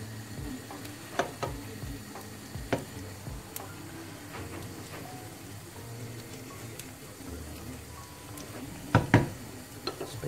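Frittata frying in a pan makes a soft, steady sizzle, with scattered faint ticks and a few louder clinks of utensil against the pan.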